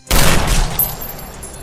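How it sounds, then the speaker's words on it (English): A loud gunshot from a film scene, one sharp, booming blast with a rumbling tail and echo that decays over about a second and a half, with no speech. "Arthur immediately shot Harry to death."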